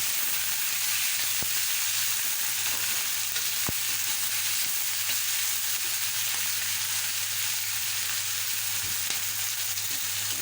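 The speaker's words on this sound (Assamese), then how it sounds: "পিঁয়াজখিনি আমি বেছি নাভাজোঁ, অকণমান ট্ৰান্সপাৰেণ্ট হোৱালৈকে ভাজিছোঁ।" Onions sizzle in oil in a large wok for chowmein, a loud, even frying hiss that runs without a break, with a few faint clicks and no voices.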